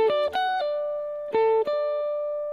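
Guitar picking the first chord of an arpeggio pattern, notes plucked one at a time and left ringing, close and clean with no talking.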